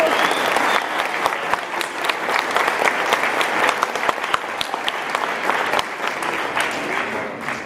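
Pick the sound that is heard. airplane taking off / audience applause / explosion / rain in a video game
audience applause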